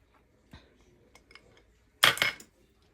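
A whisk stirs raspberry jam into a smooth glaze in a bowl for a raspberry pound cake: a few faint clinks, then a short, loud burst of metal scraping and rattling against the bowl near the end.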